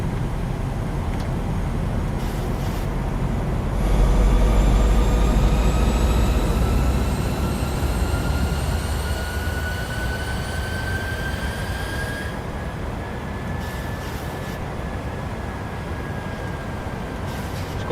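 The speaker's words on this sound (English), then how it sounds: "let's get the gear down" Landing gear extending on a Boeing 737-900 in MSFS 2020, a deep rumbling thump and swelling low roar over steady engine noise, with rising whining tones in the cockpit.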